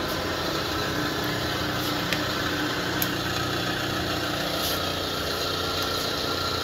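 A Polamco TUG-40 geared head gap bed lathe runs at around 600 RPM, giving a loud, steady mechanical drone and whine with a few faint ticks and no breaks.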